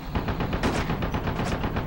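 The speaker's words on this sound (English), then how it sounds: "I need suppressing fire on that MG!" Sustained machine gun fire in Brothers in Arms: Road to Hill 30, a World War II shooter, rattling as a dense, loud and continuous stream of rapid shots that barely lets up across the moment, with no voices over it.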